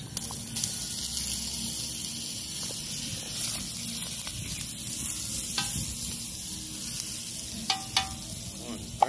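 Onions and peppers sizzle in olive oil with garlic in a pan over an outdoor campfire, producing a steady, moderate hiss with occasional stirring scrapes and small clicks.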